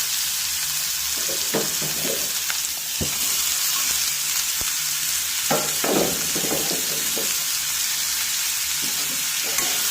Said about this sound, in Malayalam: എല്ലാം കൂടെ നന്നായി ഒന്ന് ഇളക്കി യോജിപ്പിക്കാം എണ്ണയിലിരുന്ന് ഇതൊന്ന് വാടി വരട്ടെ